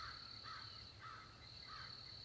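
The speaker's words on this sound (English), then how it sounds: "as you can hear the crows and the crickets, that's peace" Crows cawing in a few separate, slightly distant calls outdoors over a steady high chirring of crickets, all faint and calm with no talking.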